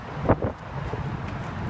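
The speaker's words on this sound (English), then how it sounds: "It is windy, we are at the bridge, it is very cold." Wind buffets the microphone at a bridge in San Francisco on a very cold day, a short burst of broad rumbling gusts with no talking.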